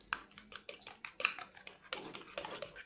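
Mayonnaise sauce with crushed red chilli being stirred in a bowl gives close, irregular clinks and scrapes of a spoon, light and sparse, with no talk.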